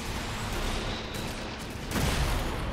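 Sustained gunfire in the video game Sunset Overdrive, a dense continuous barrage of shots and booms that swells louder near the end, with no talking.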